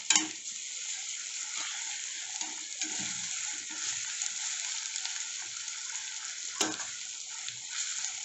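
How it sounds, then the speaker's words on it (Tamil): Onions sautéing with ginger garlic paste for chicken gravy give a steady, close sizzle throughout, with a few soft spoon scrapes and a sharp clink near the end. "இஞ்சி பூண்டு பேஸ்ட்டு சேர்த்து பச்சை வாடை போகிறது வரையும் நல்லா வதக்கிக்கலாம்"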